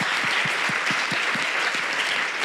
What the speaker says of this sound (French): Applaudit